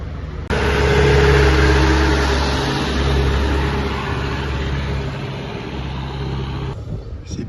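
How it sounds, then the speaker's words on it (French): Heavy road traffic climbing a steep hill road in Baguio: a loud, sustained engine roar with deep low rumble that starts abruptly, holds steady for several seconds, then eases slightly toward the end. "Ça grimpe très fort pour les camions."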